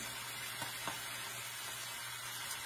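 Homemade gravy bubbles and sizzles in a pan with a steady, soft hiss, broken by a few light scrapes of a spoon stirring.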